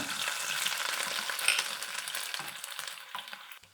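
Lentils and garlic sizzle and crackle steadily in hot oil in a pan, a dense close frying hiss with occasional stirring scrapes and no talking.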